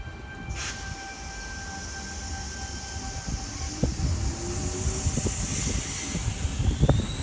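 A Sydney Trains XG set, T108, rolls through Mortdale station, its running noise building with rumbling low wheel sounds, squeals and clanks, plus a steady electric whine and hiss, close and moderately loud throughout.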